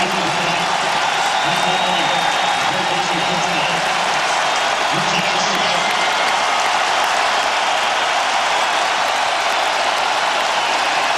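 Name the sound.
football stadium crowd cheering and applauding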